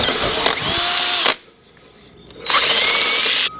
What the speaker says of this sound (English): before I drill this second hole